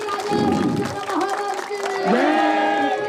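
Wedding guests at a Hindu ceremony break into applause amid a noisy crowd, with chanting voices and shouts layered over the clapping throughout.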